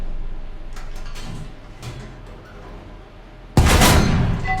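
In the War Thunder video game, a tank cannon fires one sudden loud boom near the end, and the blast rings out after a stretch of quiet engine rumble with faint clicks.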